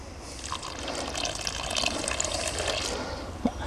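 Water poured from a watering can onto the soil at the base of a lettuce plant in a garden, a steady close splashing trickle running throughout with a small bump near the end.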